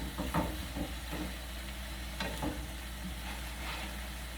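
Lobster and shrimp sizzle steadily in a pan, a constant soft hiss with faint scattered crackles and a low hum underneath, fairly quiet and without talk.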